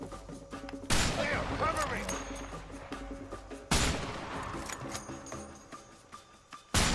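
Loud gunshot blasts boom during a shootout in the video game A Way Out. Three big bursts hit at intervals, each with a long reverberant tail, and there is faint game chatter underneath.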